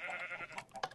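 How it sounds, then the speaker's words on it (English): Minecraft sheep bleating in a farm puzzle game, a couple of short wavering bleats alone, clear and fairly close with no talking over them. "That's a sheep."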